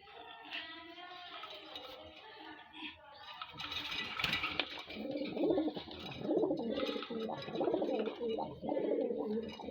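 Pairs of racing pigeons coo in soft, low, repeated bursts close by, with someone speaking intermittently over them.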